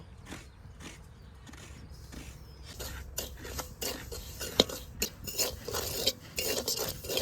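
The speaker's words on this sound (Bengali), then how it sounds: "এই সুজিটা একটু হালকা ভেজে নেব" Semolina is lightly fried in a pan while a spoon stirs and scrapes it, giving quiet scattered scrapes at first that grow into quicker, louder metallic clinks and rasps, with a soft sizzle underneath.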